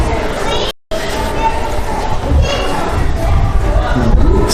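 Crowd of visitors at the Black Hills Dinosaur Museum in Rapid City, a continuous hubbub of chatter and footsteps with a close voice speaking over it and a brief dropout early on.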